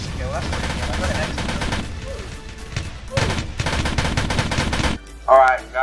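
Rapid rifle fire in the video game Polybattle, including bolt-action and burst rifles, dense crackling volleys of shots in quick bursts with short pauses, loud and close, with a voice heard briefly near the end.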